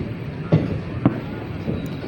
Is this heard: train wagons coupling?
yes